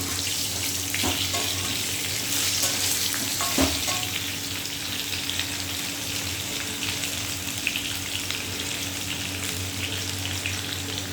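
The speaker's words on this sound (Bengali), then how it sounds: "এবার সজনে ডাঁটাগুলো দিয়ে দেবো, একটু নাড়াচাড়া করে" Moringa drumsticks sizzle loudly in hot oil in a pan, a dense continuous frying hiss with occasional scraping knocks as they are stirred, close and without speech.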